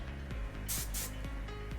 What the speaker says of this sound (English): just kind of make sure those waves underneath are sprayed